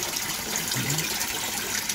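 Water gushing steadily from the bypass of a home aquaponics system, a continuous broadband rush heard alone at moderate level for the whole stretch.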